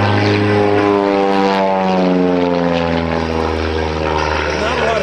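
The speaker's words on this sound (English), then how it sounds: "the sound of that prop plane trying to pull that airplane skyward" A loud propeller engine of a T6 plane at an airshow drones close by with a steady harmonic buzz, its pitch shifting slightly as it passes.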